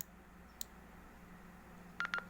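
A couple of short, faint electronic keypad beeps from a Baofeng two-way radio in quick succession, over a low background hiss.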